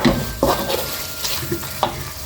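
Prawns hitting a hot pan for mee goreng, a brief burst of sizzling with a few sharp stirring knocks and scrapes, close and fairly loud.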